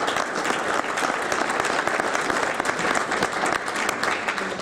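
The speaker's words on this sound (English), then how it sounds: "if you have to give yourselves a hand" Steady, dense applause from a conference audience at a labor campaign for single payer event, sustained clapping filling the whole stretch without a break.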